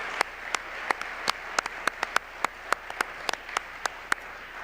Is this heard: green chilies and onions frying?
no